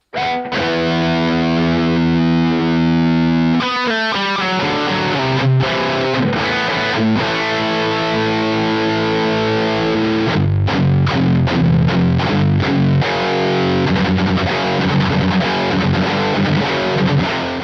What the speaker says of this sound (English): I'm trying to figure out the tone of this guitar, the pickups